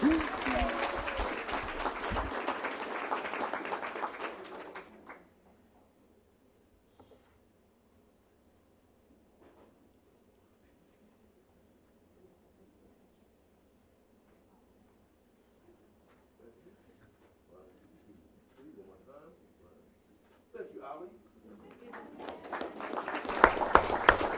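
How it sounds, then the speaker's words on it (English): A school board meeting audience gives a warm round of applause: a loud burst for about five seconds, then near silence with faint room noises, before clapping rises again at the end. "give us a warm round of applause for Mr. Hoy"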